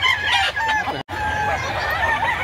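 A gamefowl rooster crows close by, its strained call running for most of a couple of seconds with a brief break, loud against a murmuring background.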